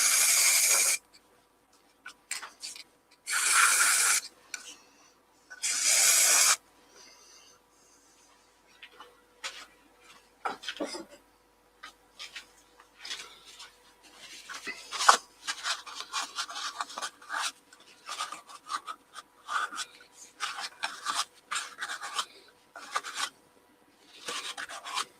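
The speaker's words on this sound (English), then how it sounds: "I'll just put some sand and sealer on the inside." Bursts of dry, raspy rubbing as sanding sealer is worked into the inside of a turned cherry wood piece, several loud scratchy strokes at first, then lighter intermittent scuffs and taps.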